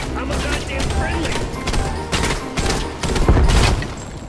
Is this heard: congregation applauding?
no